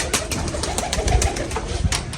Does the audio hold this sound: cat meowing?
no